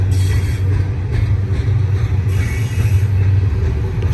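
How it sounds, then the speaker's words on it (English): A heavy BNSF double-stack container freight train rumbles past close by, a loud, steady low roar with rattling cars and metallic clatter throughout. "This is my third or fourth train."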